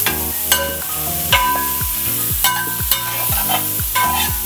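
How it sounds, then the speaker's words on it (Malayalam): Onions sizzle in a pan for a Thrissur-style chicken curry while a spoon stirs them in repeated scraping strokes, with steady frying hiss beneath sharp, rhythmic clanks against the pan. "നന്നായി ഇളക്കി കൊടുക്കണം കേട്ടോ."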